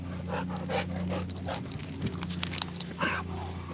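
Close, rhythmic panting from a dog, quick breaths repeating in bursts over a steady low hum.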